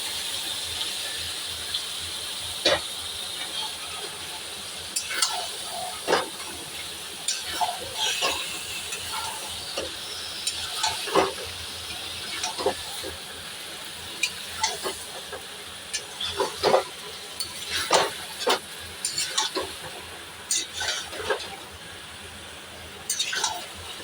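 Chicken stirred with fried spice masala in a pan, a low continuous sizzle broken by repeated sharp spatula scrapes and clicks at close range.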